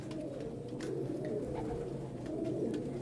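Low, continuous pigeon cooing rumbles throughout, several birds close by, with a soft murmuring rhythm and faint higher chirps in the background.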